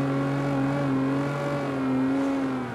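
In the racing game CarX Street, a car engine drones at steady high revs with slowly shifting pitch through a sustained drift, loud and continuous without speech.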